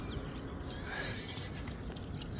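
A young brown foal that is up for sale whinnies once around the middle of a steady, noisy outdoor-sounding background, with no talk over it.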